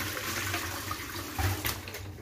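Water splashes and trickles into a basin to soak a freshly DTG-printed T-shirt for a wash test, a continuous close, moderately loud liquid rush with a brief gurgling surge and no one talking.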